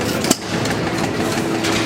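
A small hit and miss engine in a homemade miniature Rumely Oil Pull tractor chugs nearby outdoors, one sharp firing knock followed by a low steady rumbling idle.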